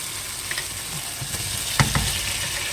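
Tomatoes frying in a pan while a sambar fish curry with curry leaves is cooked, a steady close sizzle that keeps going throughout, with a few soft clinks and stirring knocks near the end.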